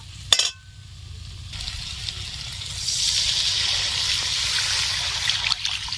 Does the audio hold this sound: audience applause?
no